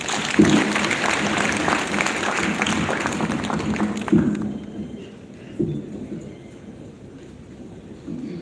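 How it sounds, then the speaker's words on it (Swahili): Audience applause for a county governor at a scholarship award ceremony in Bungoma, a broad crackling wash of clapping that fills the first four seconds, then thins and fades under lingering crowd noise. "Mpigieni makofi jamani"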